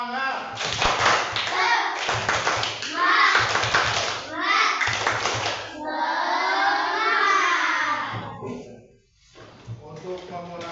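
A primary school class claps in a patterned rhythm while chanting together loudly, with bursts of rapid clapping between shouted phrases.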